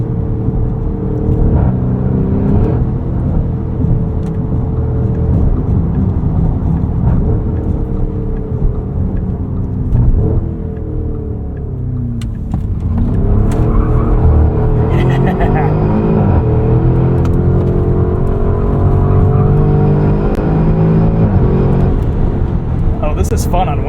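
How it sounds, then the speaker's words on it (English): A 2024 Porsche Cayenne Turbo E-Hybrid Coupe on winter tires pulls a launch-control start, its engine droning loudly from inside the cabin with pitch swells as it accelerates, while people talk over it. "Let's do a braking test and do a quick launch control here."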